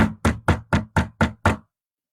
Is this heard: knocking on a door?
yes